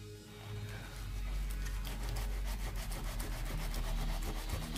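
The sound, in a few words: rubbing to clean glue off a bookmark card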